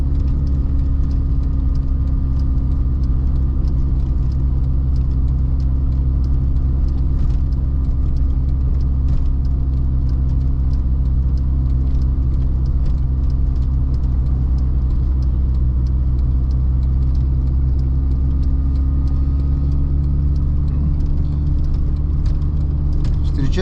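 Car engine rumbling steadily and close at a slow 30–40 km/h drive along a village road, a continuous low drone under light road noise, no talk heard.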